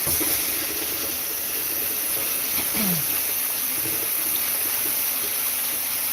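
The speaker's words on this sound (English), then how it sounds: "I'm just going to rinse it out and put it right back" Water runs steadily from a tap while salmon fish is rinsed in a home kitchen, a constant close hiss and splash with no talk.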